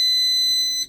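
Loud, steady electronic beeping tone from an RV gas detector alarm in a 2022 Nucamp 320S camper, triggered as the battery is switched on, holding a single piercing pitch for nearly a second before cutting off.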